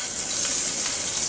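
Sliced onion hits hot oil alongside ginger for a fish dish, giving a steady bright sizzling hiss, close and fairly loud, with no voices.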